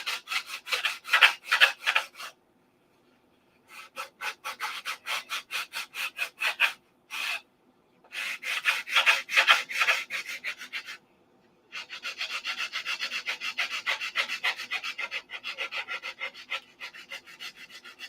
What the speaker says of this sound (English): I would have had to sand the fuselage down to match it instead of sanding the cowl